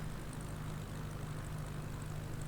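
A light propeller aircraft throttles down on approach to Manitowish Airfield, its engine a steady, even drone with a strong low hum inside the cabin and no talking.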